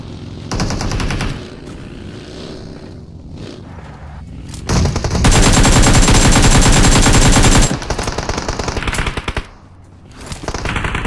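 Rapid automatic gunfire in a mobile battle-royale shooter during a 4v4 squad fight, coming in dense bursts with a long sustained volley in the middle and shorter bursts before and after, loud and close.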